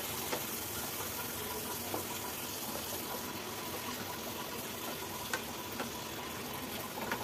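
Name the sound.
eggplant paturi frying in pan after flipping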